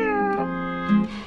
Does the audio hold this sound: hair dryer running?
no